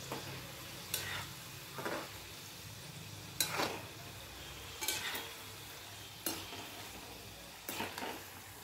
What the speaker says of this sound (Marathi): मोदक हे बारीक गॅसवरच आपल्याला तळायचे आहेत.